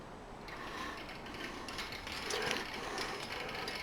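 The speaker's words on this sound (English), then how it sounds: "the gears on the left and right, as you're going to see when I fire it up, they rotate, lifting a center shaft, lifting it and dropping it" A 2015 wind-up kinetic sculpture whirs and clicks continuously as its gears rotate, lifting and dropping a center shaft, with a dense ratcheting mechanical chatter heard up close.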